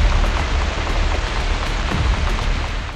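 Heavy rain pours down during flooding in Islamabad, a loud, dense and unbroken hiss of drops striking surfaces, with nobody speaking.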